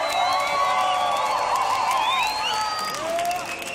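Cheers and applause rise from an audience at the Grand Beatbox Tag Team Battle 2017, a dense, sustained roar with whoops and whistles sliding above it. The noise is loud and close, and it tapers off slightly toward the end.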